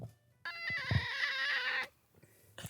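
A cat lets out a single long, loud drawn-out meow from close by, held for over a second between quiet stretches, with a faint thump or two around it.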